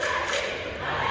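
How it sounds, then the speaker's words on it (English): A crowd cheers at a school sports event, heard over a radio broadcast as a dense, continuous roar of many voices, steady and fairly loud with no break. "So Trinity Catholic is cheering now?"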